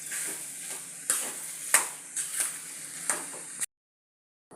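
Potato and pea samosa filling cooking in a pan gives a steady soft sizzle, broken by several sharp stirring scrapes and clinks, then cuts to silence near the end.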